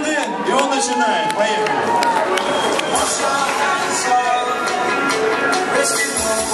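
Crowd applause and cheering welcome a guest freestyle performer from Tomsk at a Novosibirsk event, a dense, steady wash of clapping at close range that holds loud and even throughout.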